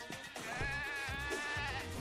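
Sheep bleat repeatedly in the video game Moving Out, wavering drawn-out cries over a farm level's background music with soft thudding beats, moderately loud.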